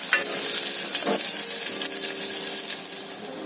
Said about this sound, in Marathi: आता आपण कांदा घालूया त्यामध्ये, तोही चांगला परतून घ्यायचा आहे व्यवस्थित